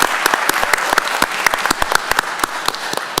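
A county board of commissioners meeting audience claps continuously, crisp individual claps standing out over a dense wash of applause, near and lively.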